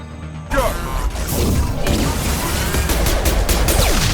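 A concussive shot blasts off in Mass Effect 2 as a sharp burst opening into a dense, continuing barrage of crashing impacts and gunfire, loud and close throughout with a few distinct heavy thuds.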